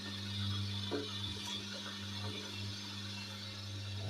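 A low, steady mechanical hum of a dough mixer's gearbox running under load, faint and continuous, with slight clicks and rattles over the drone.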